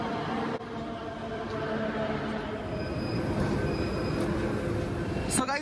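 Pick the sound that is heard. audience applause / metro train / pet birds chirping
metro train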